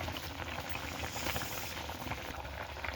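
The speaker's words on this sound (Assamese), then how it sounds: "ইমান যে ধুনীয়াকৈ উতলি আছে জুইত" Fish curry boils in a pot over a fire, with a steady, close bubbling and soft patter of simmering liquid and no talking.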